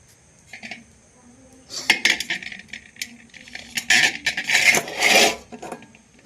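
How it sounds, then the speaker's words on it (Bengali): Knife or cutter scraping and chopping through Madan katkati dough into small pieces on a board, with bursts of raspy cutting strokes close by and brief pauses between them. "দেখুন এভাবে কাটিং করে করে তুলে নিতে হবে"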